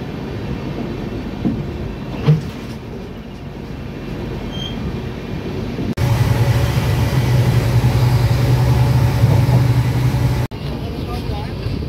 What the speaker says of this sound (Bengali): ট্রেন আমাদের এই মালদা টাউন স্টেশনে ঢুকেছিল 5 মিনিট আগে, সেই কারণে এখান থেকে বেরোলো আবার 5 মিনিট পরে